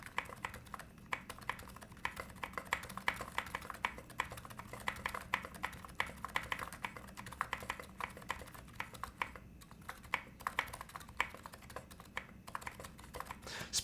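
Typing on an electro-capacitive keyboard with a gasket mount: a continuous, quiet stream of soft, muted key clacks at a brisk, uneven rhythm, close up, with no one talking.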